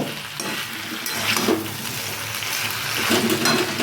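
Chopped tomato and green chillies stirred in a hot frying pan, a moderate sizzle with soft scraping and wet shuffling strokes, close and continuous, no voices.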